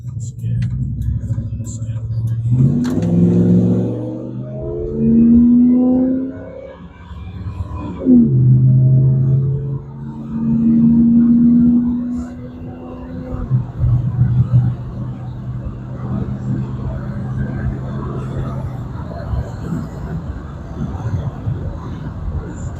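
A 2002 Dodge Ram truck with a new exhaust accelerates on a road, its deep engine note climbing in pitch through several rising pulls, with a person talking over it.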